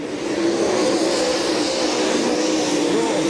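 World of Outlaws late model race cars roar around the I-55 dirt track at the Pepsi Nationals, a loud, continuous engine drone from several cars racing close together with no break.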